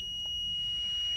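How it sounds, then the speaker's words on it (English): A parking sensor's steady high electronic startup beep sounds in a Smart ForTwo over low rumbling background noise, lasting through the short clip. "So when it starts up, you get two beeps"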